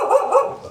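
Several dogs in a group barking and yipping in short bursts, fairly close and moderately loud, with no talking over them.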